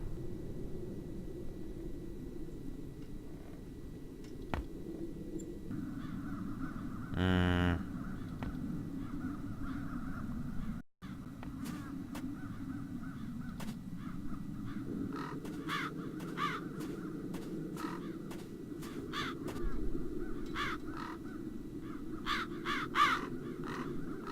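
Crows in The Dark Eye: Chains of Satinav give a series of harsh caws, isolated at first and then in quicker repeated bursts later on, over a low constant ambient hum, with no talking.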